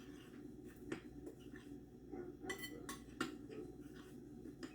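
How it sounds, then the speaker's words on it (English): A spoon stirring salt into a pie crust mixture in a bowl, faint scattered clinks and scrapes against the dish with no talking. "Get that all stirred in."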